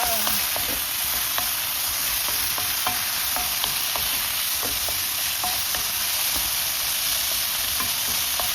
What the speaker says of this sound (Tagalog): Ginisa ang palaya mga kaibigan.